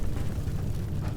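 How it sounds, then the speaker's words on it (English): Frag grenade explosion in Fallout 4, a dull, sustained low rumble that fills the whole short moment at steady loudness. "Frag grenade right there."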